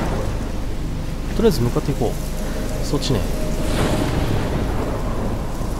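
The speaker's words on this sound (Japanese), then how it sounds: "すごい嵐" A storm rages in the adventure game Life Is Strange, with heavy rain and wind beneath a low rumble of thunder, steady and continuous. A person speaks briefly over it.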